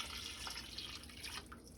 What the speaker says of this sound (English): And then I'm going to add hot water.